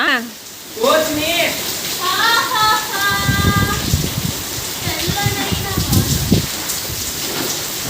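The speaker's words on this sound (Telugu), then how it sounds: "వర్షం ఫ్రెండ్స్ బీభత్సమైన వర్షం" Heavy rain pours down steadily as a broad, close hiss, with children's voices shouting and chattering over it throughout.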